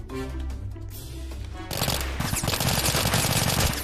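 New guns fire in the Roblox game Oil Warfare Tycoon. Scattered game sounds come first, then a loud burst of rapid automatic gunfire that rattles on steadily and close.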